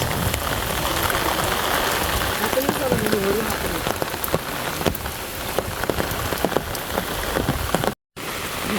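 Heavy rain drums on surfaces during a night storm while fishing in a village, a loud continuous patter with scattered close drops and a brief cutout near the end.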